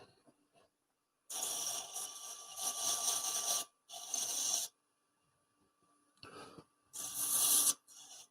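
Sandpaper rubs over turned wood on a woodturning setup, making quiet dry scratchy strokes in a few short bursts separated by silences.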